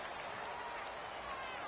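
Stadium crowd roar in a PS4 American football game, a steady, faint, even wash of cheering and noise from a home crowd with no breaks.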